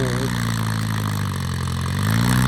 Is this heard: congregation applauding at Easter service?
no